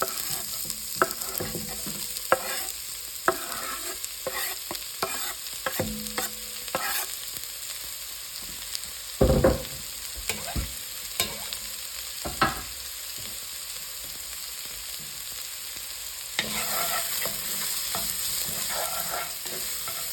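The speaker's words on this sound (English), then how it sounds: "I'm just cooking this, allowing the vegetables to get a little heat on" Vegetables sizzle in hot oil in a pan, a steady close frying hiss broken by frequent stirring scrapes and utensil knocks, with the sizzle swelling louder toward the end.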